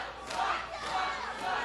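Wrestling crowd at an OVW show jeering at Shelly, a brief rowdy burst of booing and shouting voices from a packed room.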